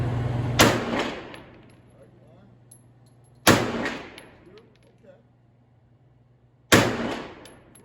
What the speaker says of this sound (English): 3 more rounds. Charles Daly.